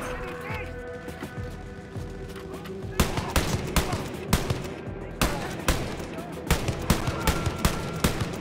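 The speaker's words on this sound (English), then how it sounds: "Oh, I'm getting shot at." Gunfire in the video game Young & Blood: rapid, repeated sharp shots rattle in quick bursts, growing denser and louder in the second half over a background of game ambience.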